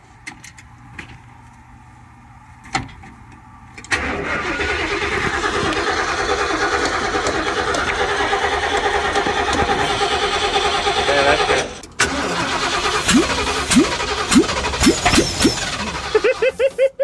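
An engine cranks and catches, then runs with a steady rumbling idle before cutting out briefly and revving again; a voice speaks briefly.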